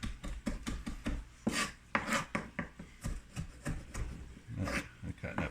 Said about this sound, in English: I'm cutting up 2 cloves of garlic